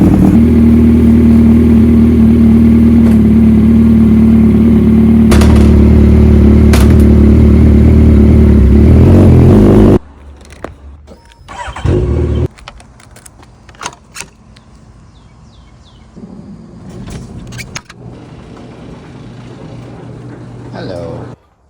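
A Volkswagen Touareg V8 drives with a loud, steady engine hum for about ten seconds. The engine then cuts off, leaving scattered clicks and key jangles in a quiet interior.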